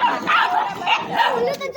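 High-pitched yips and barks from young dogs, several overlapping in quick bursts, close by and mixed with whimpering.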